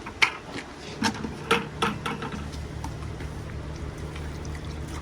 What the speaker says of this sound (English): go ahead and pre-flood the sand because it may take a little bit for the water to go through the actual bog material